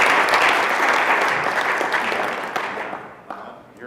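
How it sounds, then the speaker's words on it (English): A conference audience gives a warm round of applause for a presenter at a live event, loud at first and gradually fading over a few seconds, ending in scattered claps. "let's just give him a big, warm, big applause"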